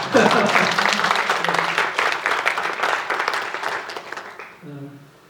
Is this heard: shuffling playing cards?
no